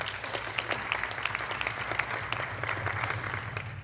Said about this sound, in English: Give your hands yourselves a big round of applause.